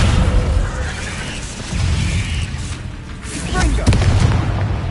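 A Descendo spell slam in Hogwarts Legacy comes as a few deep booming impacts. They land over a continuous rumbling game soundscape at fairly even loudness.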